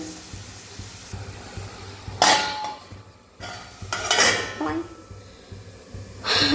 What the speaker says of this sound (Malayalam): ഒരു വിധത്തിലൊക്കെ ഇത് ഇളക്കി നമുക്കിവിടെ മൂടി വെക്കാം